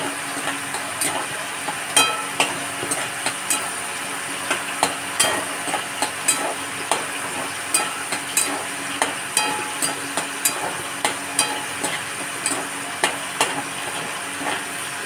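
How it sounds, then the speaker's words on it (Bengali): Green peas frying in a pan hiss steadily while a spatula stirs and scrapes them in a regular clacking rhythm, close and fairly loud, with no voices. "দেখো মটরশুঁটিটা আমার এই পর্যন্ত ভাজা হয়েছে"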